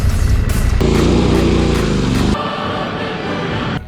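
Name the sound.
brakes of Santiago's adventure motorcycle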